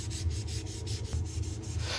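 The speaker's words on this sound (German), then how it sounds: "Ich schleife hier mit Körnung 240 bei Drehen der Maschine" Cocobolo wood pen blank being sanded with 240 grit paper as it spins on a lathe, a steady close rubbing hiss pulsing in quick regular strokes over the low hum of the running machine.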